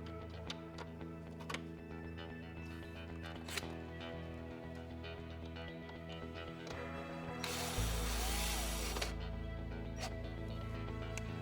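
Side arms are fastened to a gyrocopter gearbox on an MGI Navigator Quad Gyro, with steady rapid ratchet clicking and a few sharper mechanical clacks. A louder rush of noise comes near the end, all close with no talk.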